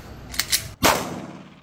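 A Glock 43X compact pistol fitted with an aftermarket Shield Arms 15+1 magazine is fired once on a test. A few small clicks come first, then a single loud, sharp report close by that decays quickly.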